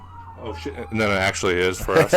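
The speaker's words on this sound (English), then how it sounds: "Sorry about the sirens there" Emergency vehicle sirens pass outside a house, a wailing tone rising and falling in the background while someone talks loudly over them throughout.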